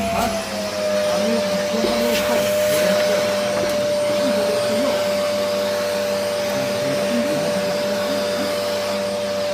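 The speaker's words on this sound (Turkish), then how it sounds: "Şimdi süpürgemizi önce bir süpürelim" A Bosch ProSilence Allergy 2400W vacuum cleaner with a clogged filter runs steadily and loudly throughout, a constant droning whine with airy rushing noise and no pauses.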